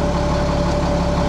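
A CAT 3125B diesel engine, fitted with new injectors and showing an active fault, idles steadily up close with a deep, even mechanical drone and no voices over it.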